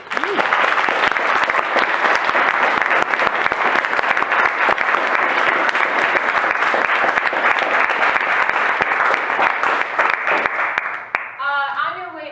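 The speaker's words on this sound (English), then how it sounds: "a round of applause, please." Sustained applause from a crowd closing a veterans panel at a college event, loud and steady for about eleven seconds before fading, with a voice speaking briefly at the end.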